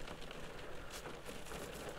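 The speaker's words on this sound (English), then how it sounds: "lashing rain" Heavy lashing rain pours down outdoors, a dense, steady hiss with a scattered patter of drops that holds at an even loudness for the whole two seconds, with no voices over it.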